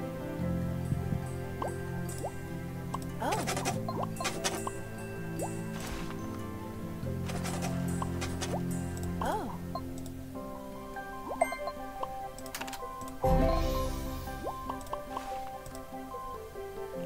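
Water sounds in the video game Doctor's Oath: repeated splashy pours and drips over a steady tonal backdrop, with a louder watery gush near the end.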